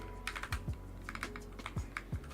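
Computer keyboard typing during game-development coding work: uneven bursts of light keystrokes and heavier key thumps, close and clear, with no voices.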